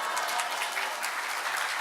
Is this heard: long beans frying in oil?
no